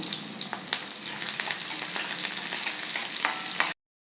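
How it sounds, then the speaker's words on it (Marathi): Crushed garlic and green chilies fry in hot oil for a gram-leaf bhaji, a bright continuous sizzle with scattered stirring clicks, close and loud, cutting off abruptly near the end. "आता हा लसूण असा आपल्याला चेचून घ्यायचा आहे तो तेलात घालूया ओली मिरची घालूया आणि थोडं परतून घेऊया"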